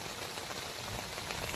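Heavy monsoon rain pours down in the Konkan region, producing a dense, even roar of drops drumming on surfaces that continues without a break.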